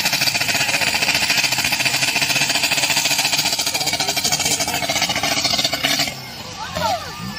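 Remote control car wheels spinning freely, a dense buzzing whine with rapid rattling pulses, loud and close, mixed with crowd noise and voices, then easing into lighter mechanical noise near the end.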